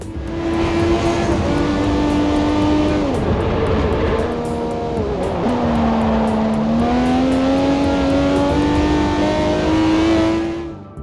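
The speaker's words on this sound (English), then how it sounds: "I mentioned how engine sounds matter when it comes to the sense of speed, and How could they not when they're this good? Just listen to this Zonda." A Pagani Zonda engine in Forza Motorsport 4 revs loudly and continuously, its pitch rising, dipping mid-way, then climbing again in a sustained near howl with no talk over it.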